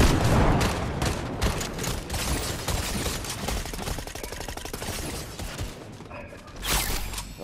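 Gunfire in a Fortnite match comes in a dense burst of shots with mechanical clatter, loud and continuous across the clip, with a brief heavy boom near the end.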